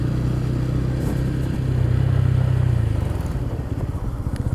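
Low, steady thrum of a Honda CB350 Highness (Ronin) motorcycle engine while riding, a loud continuous drone that swells slightly, then settles into a rapid pulsing putter toward the end.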